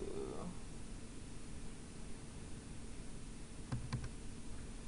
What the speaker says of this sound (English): We're just typing out everything on this first place here.